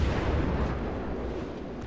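Battleship Petropavlovsk in World of Warships lets off a gun salvo, a dense, loud rumbling boom that rolls on steadily without a break for about two seconds.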